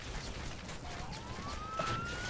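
A fire truck siren in a video game, a rising electronic wail climbing slowly and holding steady, heard over a busy, noisy backdrop of traffic and game sound without talk.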